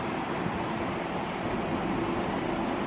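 Steady, continuous rumble of a train rolling along, a dense low roar with no clear breaks, fairly distant and even throughout.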